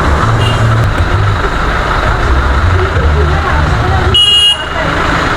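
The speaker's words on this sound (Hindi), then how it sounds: "कुछ गाड़ियाँ आ रही है, कुछ जा रही है, चारों तरफ हॉर्न की आवाज़।" Busy road traffic at a town square near Shimla hums loudly with brief car horns honking at intervals, mixed with indistinct voices nearby.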